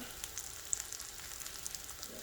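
Pork goes into a hot frying pan with caramelizing onions, giving a steady, fairly quiet sizzle with small crackles and pops and no talk.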